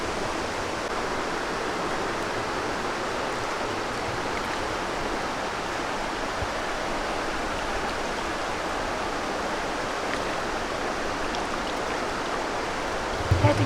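Seawater washing and splashing against shoreline rocks below a castle on a gorge, a steady, dense rushing wash that stays even throughout, fairly close, with no voices.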